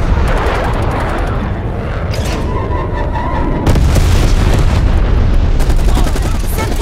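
Stun grenade blast in a video game, heavy booming detonations and rumbling gunfire that fill the whole stretch at loud, constant level, with voiced game announcements over the top.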